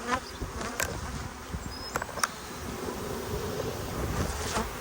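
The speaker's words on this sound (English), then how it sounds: "See these bees on the front entrance?" A close, continuous hum of honeybees buzzing at the entrance of a colony in a cabinet, with individual bees droning past the microphone amid a breezy background.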